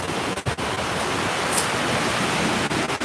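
Small ocean waves wash continuously onto a New Zealand beach in summer, a steady broadband surf hiss with gentle swells, close and fairly loud, with no voices.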